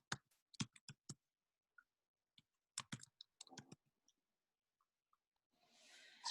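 Keyboard typing comes as close, sharp clicks in short irregular bursts with pauses between, followed by a brief rush of noise at the end.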